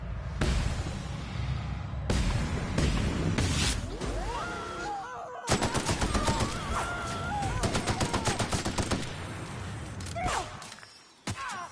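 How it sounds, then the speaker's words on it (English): Gunfire in The Outer Worlds: loud bursts of automatic shots and sharp volleys with brief pauses between salvos, game effects whooshing in between, close and forceful. "Opening fire!"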